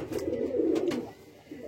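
A Ferozpuri breed pigeon coos once up close, a soft, low, throaty rolling call over faint background noise.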